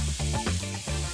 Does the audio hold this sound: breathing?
no